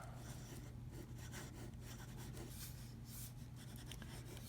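A Waterman fountain pen with a gold nib writing on paper, a soft, continuous scratching rub close up over a steady low hum, quiet and without talk.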